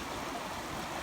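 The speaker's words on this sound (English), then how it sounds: "That's upstream, and the water's flowing this way." A rain-swollen creek overflowing its banks and flooding pastureland gives off a steady, broadband rushing of flowing water, continuous and fairly close, with no voices over it.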